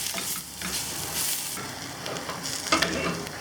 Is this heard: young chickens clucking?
no